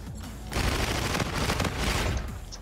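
Rapid automatic gunfire in the video game Call of Duty: Infinite Warfare bursts out after a brief pause, a loud, dense fusillade of shots that continues for about two seconds at close range.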